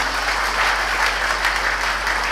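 An audience applauds at a speech honouring toilet cleaners, a dense, steady wash of clapping that fills the whole moment without a break.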